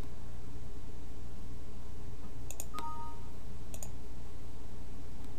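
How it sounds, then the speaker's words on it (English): A computer mouse clicks on buttons in a software control panel: a few sharp, isolated clicks, two of them in quick pairs, over a steady hiss of background noise. "So I'm going to do that by clicking on these X's."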